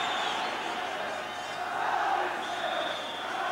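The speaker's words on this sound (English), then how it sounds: "So a huge crowd inside Celtic Park." A huge football crowd fills Celtic Park for a 1989 Celtic versus Aberdeen match, a steady broad roar of massed voices that swells slightly midway and carries on without break.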